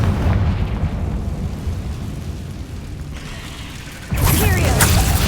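A Confringo spell explosion blasts in Hogwarts Legacy: a loud, sustained roaring rumble that surges into a sharper, brighter burst near the end, with no talk.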